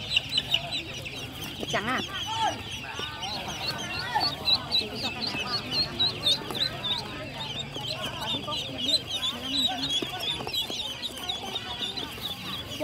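Several chickens cluck and squawk steadily and close by, a busy continuous chorus of poultry, with people talking in Vietnamese over them.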